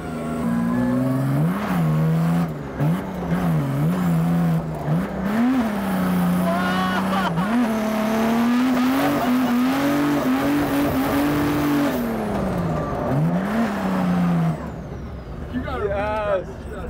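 A turbo diesel BMW E46 wagon drift car revs hard and loud nearby, its engine note rising and dipping over and over before climbing steadily and cutting off, with people's voices around it.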